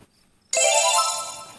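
A phone notification tone sounds abruptly after a near-silent moment, then holds as a loud, bright ringing chime that slowly fades, heard alone.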